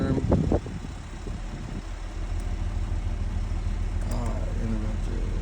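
A JLG 1255 reach lift sits with its park brake on while its engine idles in a steady low drone, with a brief louder burst at the start and a voice talking over it.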